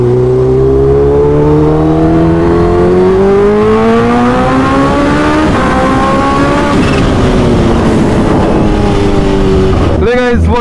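A Kawasaki H2 motorcycle on its first morning ride, heard as a loud, continuous engine note climbing smoothly in pitch through the gears with a brief dip midway, wind rush throughout and a sharp rev flurry at the end.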